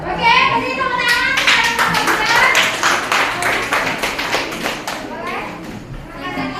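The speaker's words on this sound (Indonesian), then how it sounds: "kasih tepuk tangan" Children clap their hands together in a classroom session, a lively burst of fairly close clapping that fades out, mixed with young voices chattering and shouting.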